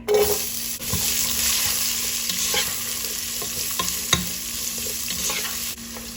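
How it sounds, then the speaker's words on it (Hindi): Carrots frying in hot ghee while being cooked for Afghani Bukhari rice give a steady, close sizzle with occasional stirring clatter and scraping, continuous and fairly loud with no talking. "अब इसी घी में मैं डालूंगी ये गाजर"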